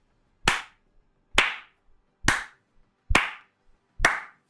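Five sharp, evenly spaced claps ring out one at a time, each crisp and close with a short decaying tail and silence in between.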